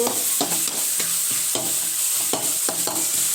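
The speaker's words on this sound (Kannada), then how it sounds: "ಈರುಳ್ಳಿ ಚೆನ್ನಾಗಿ ಫ್ರೈ ಮಾಡ್ತವ್ರೆ ಇಲ್ಲಿ ಟೊಮಾಟೆ ಹಾಕಿದ್ದಾರೆ ಬೀನೀಸ್ ಹಾಕಿದ್ದಾರೆ ಈಗ ಫ್ರೈ ಮಾಡ್ತವ್ರೆ" Onion, tomato and beans stir-fry in a pan for egg rice, a steady loud sizzle broken by regular scraping strokes of a spatula about every half second, close and with no talk.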